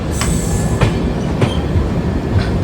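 Train moving at Kannur railway station, a steady loud rumble of the rolling train with a few sharp clicks from the wheels passing over rail joints.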